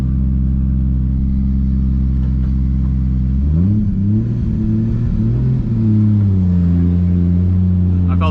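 An 800+ horsepower Toyota Supra MK4 rumbles loudly while cruising, its deep steady engine drone rising partway through into a wavering rev that climbs and settles, close and continuous with no talk.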